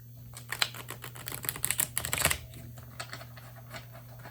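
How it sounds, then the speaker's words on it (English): Christmas elf card deck being shuffled by hand, a quick flurry of crisp card flicks and riffles building to a dense burst, then a few scattered taps, close and clear without talking. "Give it a couple shuffles here."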